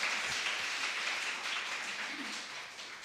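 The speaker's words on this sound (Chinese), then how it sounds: "怎么不掌声鼓励一下？" A church congregation at a Christmas praise service applauding together, a steady dense wash of clapping that fades slightly toward the end, with no talk over it.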